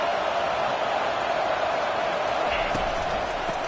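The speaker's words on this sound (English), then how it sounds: "It is getting loud as this crowd tries to help its defense." A football stadium crowd roars steadily and loudly as fans try to help their defense, a dense continuous wash of noise with a few sharper shouts near the end.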